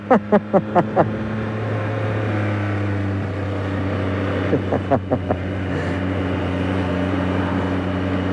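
A 2024 Yamaha MT-09 motorcycle underway, with a steady engine drone that shifts gear partway through and sharp rhythmic popping bursts near the start and again in the middle, heard close and continuous without talk.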